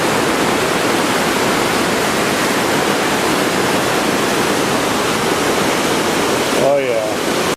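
Roaring white water river rapids, a loud continuous broadband rush with no pauses, heard from a train passing alongside the river.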